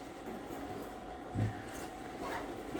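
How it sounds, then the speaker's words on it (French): A steady low mechanical rumble and whir, like a washing machine running, continuous throughout with a brief louder thump partway through. "Désolée pour le bruit, c'est la machine à laver."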